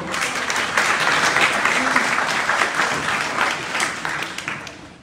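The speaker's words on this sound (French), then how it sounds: "Tout en vous demandant de les applaudir très fort" Sponsors of a Malian national day celebration in Belgium receive warm applause, a broad crowd of clapping that swells quickly, stays strong, then gradually thins toward the end.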